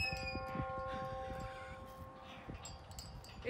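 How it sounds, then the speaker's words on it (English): A church bell chimes the quarter hour outdoors, its sustained ringing tones hanging steadily over a low rumble of ambient noise, fairly faint and distant, with no voices. "It chimes every 15 minutes, and then at the top of the hour it will chime how many times?"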